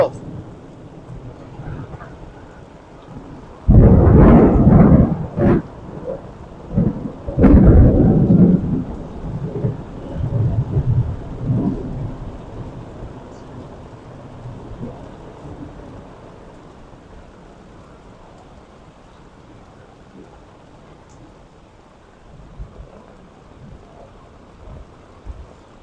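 Thunder booms loudly and close during a thunderstorm at a truck campsite in the Ouachita National Forest, two heavy cracks followed by lower rumbles that fade into steady rain.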